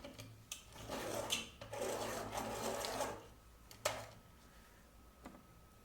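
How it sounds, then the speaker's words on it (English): A soft pastel stick is sharpened with quiet, rough scraping and rasping strokes in short bursts, with a few small taps between them and no talking. "I'm actually gonna take this warm color and I'm gonna sharpen it."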